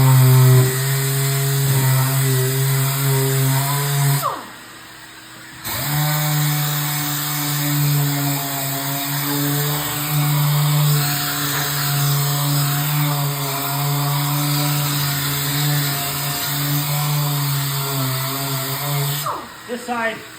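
A power tool roughens the surface of an Arabian arcade cabinet during restoration, prepping it for Bondo filler. Its steady, close motor drone holds throughout, with one short break near the start and a brief dip at the end.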